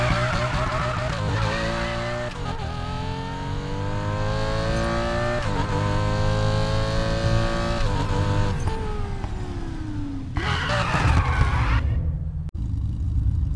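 A race car engine in the game Need for Speed Payback roars continuously, revving up and down through gear changes with a brief tire squeal near the end, loud and close.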